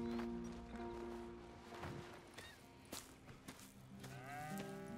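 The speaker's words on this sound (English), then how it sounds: "Here's the cows." Cattle mooing on a farm in the Western video game Red Dead Redemption, with several drawn-out low moos rising over a steady ambient bed, one following another across the span.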